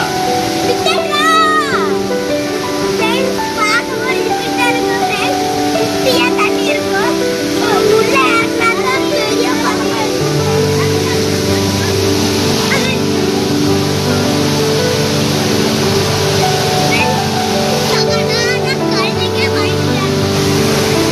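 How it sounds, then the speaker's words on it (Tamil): Water rushes steadily and loudly down a garden channel throughout, with people talking, including children, over the continuous flow. "தண்ணி வரப்போ எப்படி கேட்குது பாருங்க"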